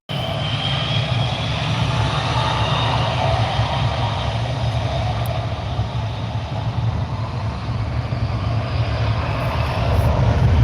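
A Jetstar airliner powers up for takeoff at an airport, its engines building into a broad, continuous roar heard from a distance, growing slightly louder toward the end.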